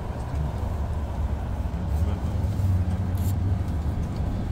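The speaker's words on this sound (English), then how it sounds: "Always love that buzzing sound when the bus enters." A minibus drives into an enclosed bus station garage, its steady low buzzing drone filling the space continuously and swelling slightly midway.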